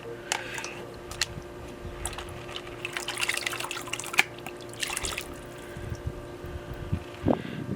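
Water sloshes and swirls around a gold pan holding gravel, pebbles and black sand, with soft irregular splashes and drips nearby and a few brighter surges of movement.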